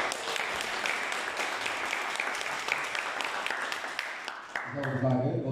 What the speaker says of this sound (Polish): To proszę o ogromne brawa za odwagę.